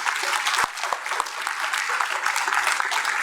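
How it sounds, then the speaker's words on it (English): Audience applause fills the room at a Louisiana governor's broadband program launch event, a steady wash of clapping from a sizeable crowd, with a few sharper claps standing out near the start. "that's a really round of applause for everybody."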